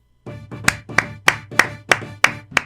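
Seven sharp hand claps in a steady, slightly slow rhythm, close and fairly loud, with no one speaking.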